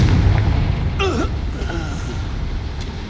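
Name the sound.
Confringo fire-blast spell explosion in the video game Hogwarts Legacy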